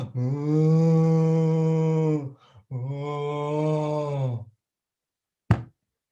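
A man imitates a cow, giving two long, loud, drawn-out moos one after the other, followed by a single sharp knock.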